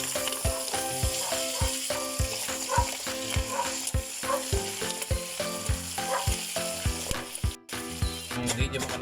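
Crabs sizzle loudly in a hot pan for ginataang alimango, a steady bright frying hiss punctuated by regular clacking knocks of a utensil stirring against shells and pan.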